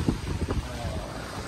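Wind buffeting the microphone with surf and waves rolling in at Pantai Boheh beach on the Java Sea, a steady broadband rush with a few low gusty thumps early on.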